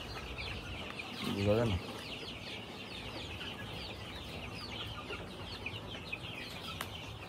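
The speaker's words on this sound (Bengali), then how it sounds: "মুরগিরও খেলাধুলা করে মজা পেতেছে।" Chickens cluck softly around a breezy home yard where they are fed and watered. The calls are faint and scattered, with a brief louder burst, and a voice speaks quietly.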